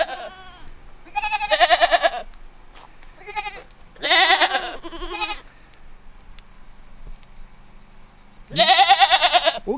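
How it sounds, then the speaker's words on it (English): Baby goats bleat repeatedly nearby on a mountain homestead, high wavering cries coming in bursts of two or three with quiet pauses between. "We got some baby goats."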